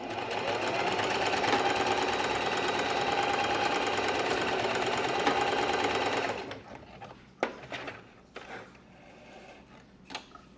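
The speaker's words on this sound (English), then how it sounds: "just going to be doing a straight stitch along each end to close it off" A sewing machine runs a straight stitch to close off the end of a fabric piece, a loud steady rattling whir lasting about six seconds. Then it stops, leaving faint clicks and handling sounds.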